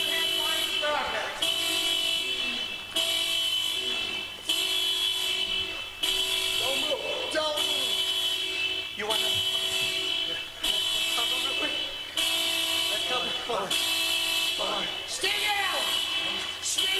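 Car horn stuck sounding after a bullet struck the car, blaring a loud, sustained tone in repeated long blasts about every one and a half seconds with brief gaps, faint voices underneath.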